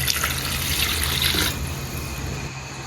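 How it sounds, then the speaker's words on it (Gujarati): Water pours steadily into a metal pressure cooker for about a second and a half, then stops, leaving a low background hum. "પાણી આપણે પહેલાં નાખવાનું રહેશે તો પાણી નાખી દઈએ આપણે"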